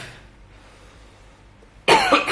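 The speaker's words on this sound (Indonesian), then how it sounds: "Pesan saya batuknya baru hari ini sih, parah banget hari ini tuh" One sharp, harsh cough bursts out close and loud near the end, after a quiet stretch of faint room noise.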